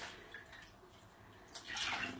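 A small device head is dunked and swished in a bowl of water, giving a short close splashing and sloshing that swells louder near the end.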